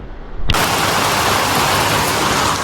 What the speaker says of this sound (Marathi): पाऊस सुरू झालाय मस्त कोकणात.